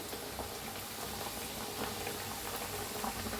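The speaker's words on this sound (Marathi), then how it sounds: "आता फिरवून घेऊया दोन्ही साईडने असं छान तळून घेऊया" Pumpkin puris fry in very hot oil, giving a dense, continuous bubbling sizzle at close range that stays steady throughout, with no talking.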